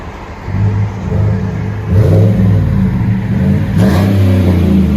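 Chevy Silverado with a 5.3L V8 and Flowmaster Super 40 exhaust revs loud and close, a deep steady rumble swelling twice into stronger throttle blips, no voices.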